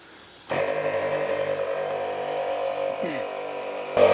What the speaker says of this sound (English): I can let the air compressor run.